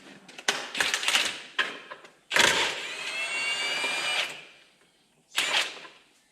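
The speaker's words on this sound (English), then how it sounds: "I'm going to grind this up and fix it up a bit." An angle grinder grinds a damaged part on a John Deere 3140 tractor that will not let a socket fit. A few short bursts lead into a loud two-second whining grind, then one more brief burst, with no talk.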